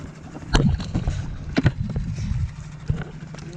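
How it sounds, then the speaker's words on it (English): A small dinghy moves across open water in wind, with irregular knocks and splashes against the hull over a steady wash, loudest near the start and middle. "First time in the dinghy."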